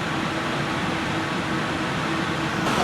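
A homemade, speed-adjustable ventilation fan for a Honda Freed+ runs steadily with a constant broadband whoosh and faint motor tone, close and unchanging, with no one talking.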